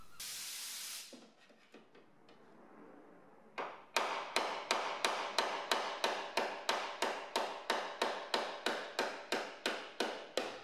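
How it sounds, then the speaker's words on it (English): A burst of hiss, then steady rhythmic metallic hammer blows with a dolly on a crash-damaged BMW E30 Touring body panel, evenly spaced and ringing, close and loud. "I'm going to use these dollies and a hammer to try and mould it into a more factory shape"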